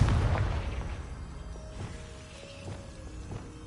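The Confringo fire spell in Hogwarts Legacy bursts loudly at the start, then its rumble fades while faint pops and chimes follow.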